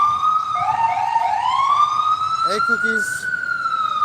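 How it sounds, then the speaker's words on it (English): An ambulance siren wails on a New York street, a loud rising and falling tone that holds steady throughout as it passes, with a brief spoken phrase partway through. "Oh, that's an ambulance, one of our many ambulances."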